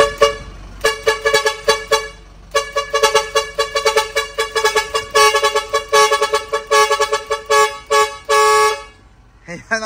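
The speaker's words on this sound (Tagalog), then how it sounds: "Kabisyo Express horn module." A 12-channel car horn module, the Kabisyo Express, plays loud musical horn tones in quick tune-like sequences of short blasts and a few held notes, with brief gaps between phrases, ending in a sudden drop to quiet.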